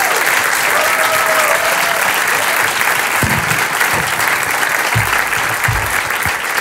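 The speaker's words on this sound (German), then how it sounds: "Einen großen Applaus mal für euch selber, bitte." A studio audience at a premiere taping in Cologne-Ehrenfeld applauds steadily, dense sustained clapping that fills the room throughout, with a few louder claps near the end.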